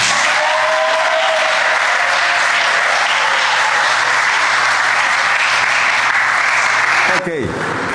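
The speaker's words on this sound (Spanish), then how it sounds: "Un aplauso para las mamás." A congregation applauds the mothers at a church sermon, with loud sustained clapping from a crowd that fills the space for about seven seconds and then cuts off abruptly.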